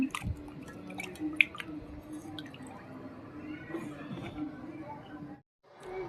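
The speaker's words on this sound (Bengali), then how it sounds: "দেখো এবার আমার মাছ ধোয়া কমপ্লিট" Fish being washed in water during evening kitchen prep for Bengali fried fish, with steady wet dripping, squishing and splashing close by, broken by brief clatter and a short pause near the end.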